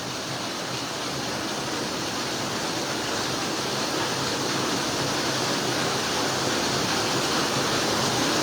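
Floodwater from a strong typhoon rain rushes down from higher ground in San Jose, a steady, loud broadband roar of churning water that holds without a break and grows slightly stronger toward the end.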